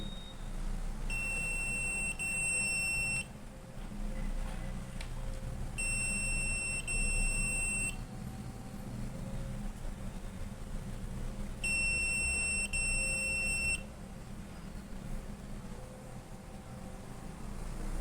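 A buzzer on a touch-sensor circuit with an LED sounds three times in steady electronic tones, each lasting roughly two seconds with gaps between, over a constant low background hum.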